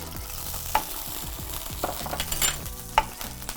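Onion frying in oil and ghee in a pan, a steady close sizzle with spatula scrapes and a couple of sharp metallic clinks, fairly loud, no voices.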